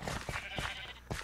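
Sheep in Minecraft bleat in quick succession, several short wavering baas close together over about a second, with no talking.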